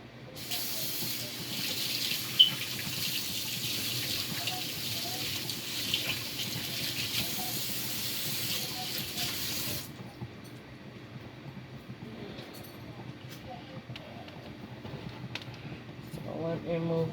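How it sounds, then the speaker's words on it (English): A kitchen tap runs steadily for handwashing at a sink, a broad hiss that stops abruptly partway through, leaving quieter room noise and light handling sounds. "Let me go and wash my hands."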